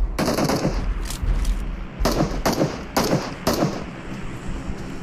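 Rapid bursts of automatic gunfire from the PUBG Mobile video game, dense repeated shots in several clusters with thumping impacts, loud and continuous throughout.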